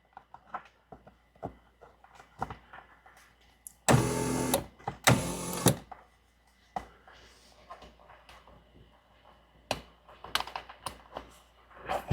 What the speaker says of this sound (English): You can hear this seat motor, circuit breaker tripping